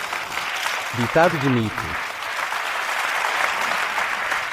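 An audience applauds with steady, broad clapping that continues for several seconds, while someone speaks briefly over it near the start.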